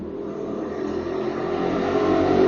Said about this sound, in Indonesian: Mohon maaf ada suara motor ya.